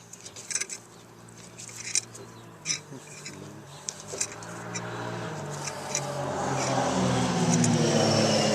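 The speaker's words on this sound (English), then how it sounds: "looks like one guy is out there testing out his ATV" An ATV engine revs and drones nearby, growing louder and steadier toward the end, with scattered clicks and rattles over it.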